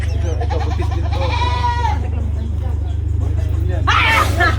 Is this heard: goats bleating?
yes